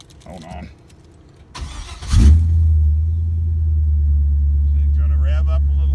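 A car engine fitted with a new tach starts after a brief cranking burst, then catches and holds a loud, steady, somewhat high idle as if cold. Brief talk comes before it.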